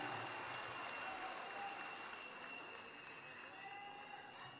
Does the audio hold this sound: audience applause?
yes